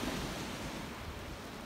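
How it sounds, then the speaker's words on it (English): Surf at Rosewood Beach in Highland Park breaks in a steady, broadband rush, continuous and fairly loud with a windy roar and no distinct individual crashes. "you get to be here right by the crashing waves in Highland Park."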